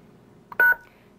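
A cellular phone plays a dialing tone while a call is placed, heard as a single short, clear touch-tone beep against a quiet background.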